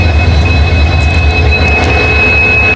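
A train rolls along the rails with a steady low rumble and a sustained high whine of wheels throughout, loud and close, with no talking heard.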